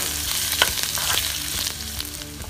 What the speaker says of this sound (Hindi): हम कढ़ाई में 2 चम्मच तेल ले लेते हैं और इसमें हमारा प्याज डाल देते हैं। प्याज को हम सुनहरा होने तक पका लेते हैं।